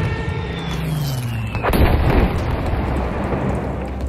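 A Stuka dive bomber attack in Battlefield 5: a descending siren-like whine gives way to a heavy, loud explosive blast with thundering rumble and lingering debris noise.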